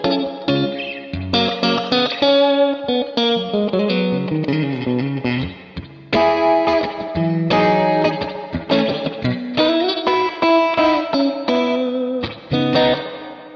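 Electric guitar playing chords and short melodic phrases through a Strymon BigSky reverb pedal on its spring setting, drenched in bright, splashy spring reverb, loud and continuous with no talking.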